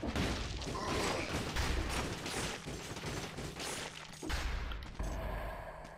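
Turrets fire in Dead Cells, a run of dense mechanical thumps and bursts that rattle on steadily and fairly faintly, with no talk over them.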